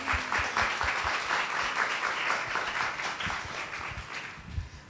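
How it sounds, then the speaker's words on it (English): Audience applause after a talk on sustainable fashion, a full, even roar of clapping hands that holds steady and begins to thin toward the end. "Can we give them a round of applause?"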